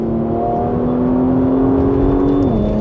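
A Porsche Macan GTS in Sport Plus mode pulls hard, its engine note rising in a loud, steady drone for a few seconds before dipping at a shift, with no talking.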